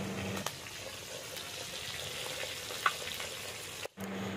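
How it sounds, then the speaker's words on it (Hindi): Fish sizzles in a pan over an open courtyard cooking fire, a steady, fairly quiet frying hiss broken by a few sharp clicks, with a brief drop near the end. "शीला बना रही है आंगन पे, मछली बना रही है"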